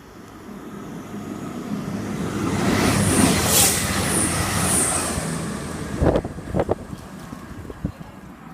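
A Crewe to Derby train passing Longport station on the West Coast Main Line, a rising and fading rumble with wind buffeting, followed by a few sharp clanks near the end.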